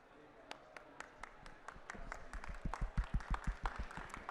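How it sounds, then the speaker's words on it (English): Applause follows the signing of a weather and climate funding agreement at a COP27 event, starting with a few scattered claps that build into fuller, louder clapping, with faint voices underneath. "A big round of applause"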